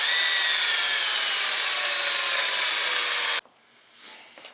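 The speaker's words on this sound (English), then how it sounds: "I'm going to drill a hole into it." A power drill bores a hole into the back of an animal skull being cleaned for a European mount, a loud steady whine running for over three seconds before stopping abruptly, followed by quiet handling noise.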